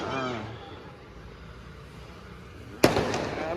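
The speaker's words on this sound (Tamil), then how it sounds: "பெரிய வெடியாக போடுங்கடா" Big firecrackers and fireworks burst during a New Year night celebration: crowd voices and shouting give way to one sharp, loud explosive crack followed by crackling and pops.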